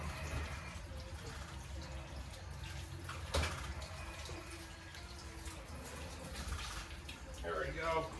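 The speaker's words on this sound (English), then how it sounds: "Just run some water over it." Tap water runs steadily to rinse pig's blood off meat in a kitchen, a faint continuous flow with a brief clatter partway through, under quiet background noise.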